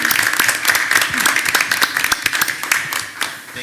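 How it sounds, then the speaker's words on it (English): Applause breaks out at a school board meeting, a modest room of people clapping with distinct individual claps audible, fading into scattered claps toward the end. "Let's give them a round of applause, shall we?"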